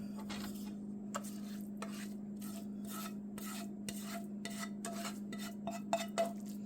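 Spinach being stirred into a creamy spinach dip in a bowl gives a run of soft, repeated scraping and squelching strokes, close and steady, over a constant low hum with no talking.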